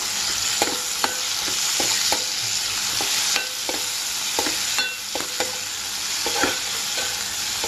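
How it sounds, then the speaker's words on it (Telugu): Curry leaves crackle and sizzle steadily in a hot pan as a spoon scrapes and taps the pan at regular intervals; close and fairly loud, with no talking. "అదే విధంగా కరివేపాకుని కూడా వేసుకొని మగ్గనిస్తే బాగుంటుంది ఫ్రెండ్స్."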